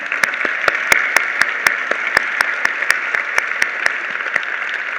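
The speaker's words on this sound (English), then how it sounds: "Can we have a round of applause for all of them" A conference audience applauds its speakers, a dense, steady roar of many hands clapping at close range that keeps up evenly throughout with a few sharper individual claps standing out.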